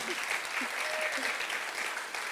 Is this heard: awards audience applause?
yes